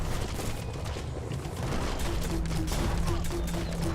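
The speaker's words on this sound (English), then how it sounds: "Interestingly, I'm shooting automatically now." Automatic weapon fire in the action game Biomutant rattles steadily at moderate level throughout, a dense stream of rapid shots with a faint tonal hum underneath and no talking.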